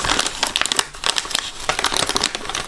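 A plastic mystery bag holding a Game Boy game is torn open by hand, a dense run of loud, close crinkling and rustling crackles with rapid irregular bursts throughout.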